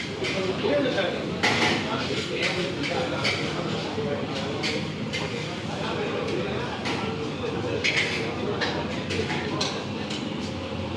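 Fork and cutlery clinking against a plate while eating roti telur with curry sauce, a steady run of light metallic taps and scrapes, with a person talking over it.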